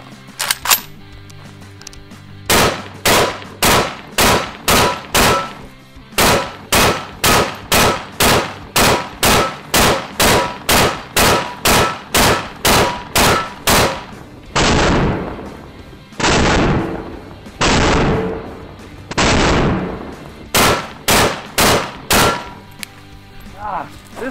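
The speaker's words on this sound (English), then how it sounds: "we're about to do a 30 round mag dump on this AK" An AK rifle empties a 30-round magazine in rapid semi-automatic fire, a long, evenly paced string of loud, sharp cracks with a few more spaced shots at the end.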